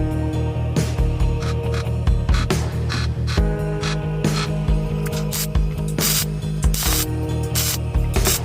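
Tack welding on the belly pan of a DIY CNC plasma table gives loud, crackling, hissing bursts, some short and some sustained, over a steady electrical hum, with no voices.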